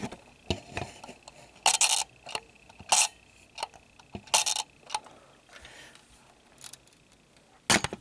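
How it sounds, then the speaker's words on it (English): A Ciro Flex Model B twin-lens camera shutter fires repeatedly at different speeds, giving sharp, close mechanical clicks and snaps separated by quiet gaps and faint handling noises. "I'm going to demonstrate the range of shutter speeds offered by this camera"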